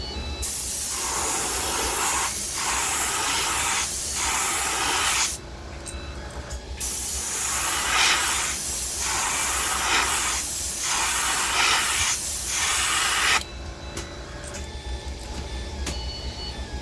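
A heat gun heat-sets paint on a Megabass 110 Ghost Minnow lure blank, giving off a loud, steady blowing hiss that cuts out briefly twice before resuming, close by with no talking.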